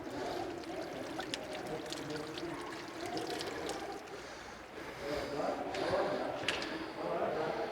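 Water pours steadily from a mountain spring fountain fed by underground flow, a continuous splashing wash with brief brighter trickles, heard outdoors at moderate level throughout.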